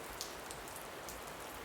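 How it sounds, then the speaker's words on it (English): Gentle rain sound effect: soft, steady patter of raindrops on a surface, faint and even, with a few brighter drips, no voices. "imagine the sound of gentle rain"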